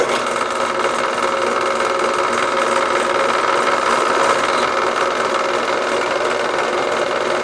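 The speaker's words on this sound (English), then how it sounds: "Got my creaky old drill press all hooked up." An old, creaky drill press runs steadily in a woodworking shop, its motor giving a constant, loud mechanical whir and hum with no breaks or talk throughout.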